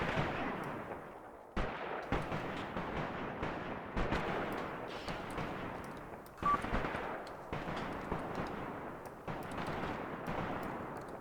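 Gunfire rings out across a battle in Graviteam Tactics, a steady series of sharp shots and booming reports at a moderate distance over a rumbling background.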